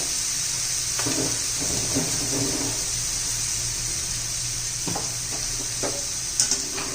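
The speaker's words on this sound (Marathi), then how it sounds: "एकसारखं हलवत राहायचंय म्हणजे चांगली परतली जाते" Cluster beans sautéing in a pan for a spicy gravy dish, an even hiss of frying with occasional soft spoon scrapes and taps, close and steady without talk.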